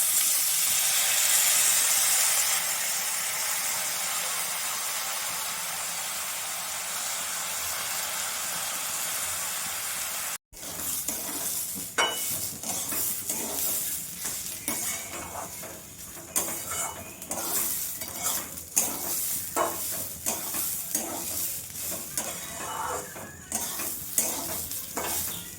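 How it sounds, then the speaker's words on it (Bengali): Rice fried with cashews for Bengali pulao gives a steady close hiss of sizzling, then a spoon scrapes and stirs through the grains in repeated, uneven strokes. "চালটা আমার ভাজা হয়ে গেছে"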